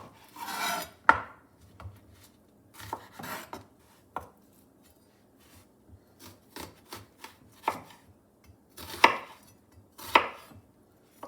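A knife slicing food on a cutting board while making bean dip: irregular knocks and scraping strokes in uneven bursts with quiet gaps between, close and clear, no talk.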